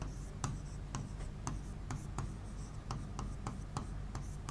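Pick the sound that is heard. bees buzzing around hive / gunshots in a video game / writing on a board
writing on a board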